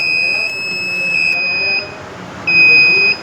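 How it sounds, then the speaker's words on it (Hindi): An engine temperature alarm, set off by heating its sensor, sounds as a loud, steady electronic beep tone that holds, cuts out briefly, then sounds again, with no talking over it. "अब मैं टेम्परेचर 1 को जो है बॉडी का टेम्परेचर है, इसको हीट देंगे, ये देखिए अलार्म आ जाएगा।"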